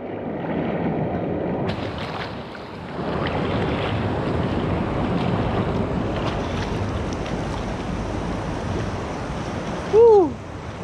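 Stream water pours over a small waterfall in Đạ Huoai, Lâm Đồng, making a continuous broad rushing wash that fills the scene near and loud, with a brief tonal squeak near the end.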